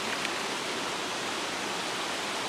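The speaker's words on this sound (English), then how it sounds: "stopped over here for a last look at the waterfall, a little closer up" Steady, even rush of falling water from a nearby waterfall, broadband and unbroken throughout with no voices.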